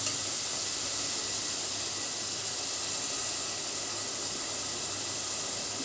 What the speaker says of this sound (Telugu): పేస్ట్ వేసుకుని బాగా ఫ్రై అయిన తర్వాత అప్పుడు టమాటా పేస్ట్ వేసుకోవాలి